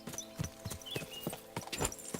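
Rhythmic hoofbeats of a ridden horse in Kingdom Come: Deliverance II, a steady clip-clop of several strikes at moderate loudness, heard alone with no talk.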